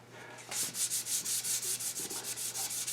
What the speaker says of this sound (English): Get this sanded